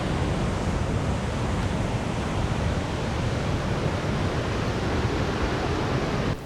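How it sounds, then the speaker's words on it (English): Strong mountain stream in Serra da Lousã on a stormy winter solstice day: a steady, loud, broadband rush of flowing water, constant and close with no pauses and no voices. "The flowing water and its strength never ceased to amaze us."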